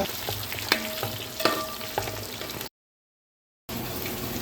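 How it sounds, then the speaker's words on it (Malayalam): Fish pieces frying in oil with a steady sizzle and a few sharp spatters, broken by about a second of silence before the sizzle resumes. "എന്നിട്ട് ഇനി ഇത് വറക്കണം ഇപ്പം ഒരു സ്റ്റെപ്പ് നമ്മൾ വറുത്തുകൊണ്ടിരിക്കുക"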